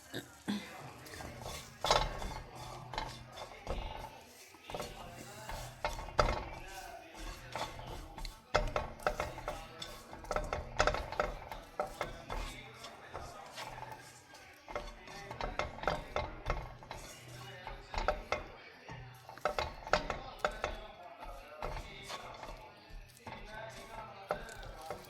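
Dates being stirred and warmed in a dry pan for a biotin laddu, with busy scraping, tapping and clinking of a utensil against the pan throughout, close and fairly steady, with background noise underneath.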